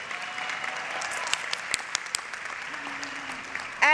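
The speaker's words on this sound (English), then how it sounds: "A round of applause for Scholar Ewing Carey." Applause at a dual enrollment recognition ceremony for a graduating scholar, a steady crowd of clapping in a hall with a few sharper individual claps standing out.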